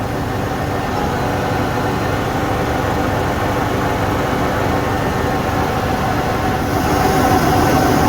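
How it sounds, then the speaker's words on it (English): Tractor being pulled backwards by a grain bag extractor's hydraulic roller, a continuous heavy low engine rumble with mechanical whirring, steady and close throughout, rising slightly in loudness near the end. "This extractor is pulling the tractor backwards on its own with that hydraulic roller."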